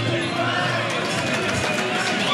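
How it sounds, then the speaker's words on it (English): A fight crowd roars steadily and loudly throughout, a dense wall of cheering and shouting with no breaks. "the crowd going absolutely crazy"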